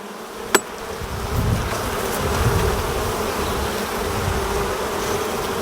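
Africanized honey bees swarm around an opened hive during re-queening, a dense continuous buzz close by with one sharp knock near the start.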